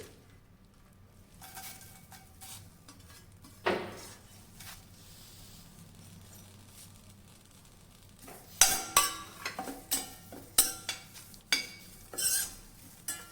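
A handful of washed curry leaves added to a pan and fried, a burst of crackling followed by repeated sharp clinks and scrapes of a spoon against the pan.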